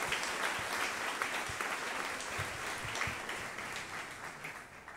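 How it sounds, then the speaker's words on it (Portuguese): Church congregation applauding at a Portuguese-language worship service, a steady wash of many hands clapping throughout, fairly even and sustained at moderate loudness. "Uma salva de palmas para esse Deus maravilhoso."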